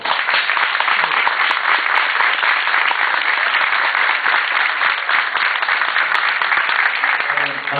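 A crowd at a municipal election candidacy presentation in Portalegre applauds loudly and steadily for nearly eight seconds, a dense, continuous wash of many hands clapping close by.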